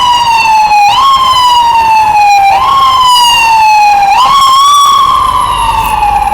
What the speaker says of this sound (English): So we got an ambulance trying to get through.